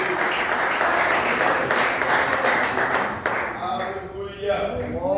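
A church congregation claps in praise, a dense, loud burst of applause for about three seconds that then tapers off into scattered claps and voices.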